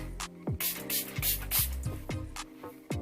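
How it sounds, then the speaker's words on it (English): A spray bottle mists water onto the hair of a lace frontal wig in a series of quick sharp spritzes, several close, hissing bursts in a row, with no talking. "I have my spray bottle. Just gonna spray the hair."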